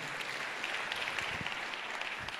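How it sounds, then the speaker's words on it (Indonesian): Church congregation applauding during a sermon: a dense, even wash of many hands clapping at moderate distance, sustained throughout with no voices on top. "Kita berikan tepuk tangan buat Tuhan kita yang luar biasa"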